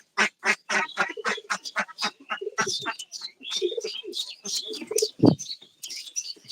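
Ducks on a duck farm quack in a dense, overlapping chorus of rapid calls, loud and close, with one deeper honk standing out near the end.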